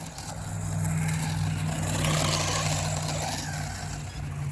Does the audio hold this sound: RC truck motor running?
yes